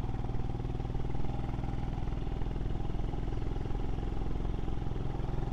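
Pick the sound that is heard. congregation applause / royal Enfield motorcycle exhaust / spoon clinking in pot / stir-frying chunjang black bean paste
royal Enfield motorcycle exhaust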